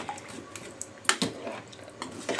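Soft scraping and clinking of a spoon stirring rice and water in a pot for chicken biryani, with a few sharper knocks against the rim, close and fairly quiet.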